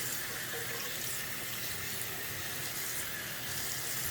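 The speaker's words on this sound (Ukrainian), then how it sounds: "Помиваємо ретельно під водою." Tap water runs steadily into a sink, a constant soft rushing with faint splashes as manicure tools are rinsed, no voices present.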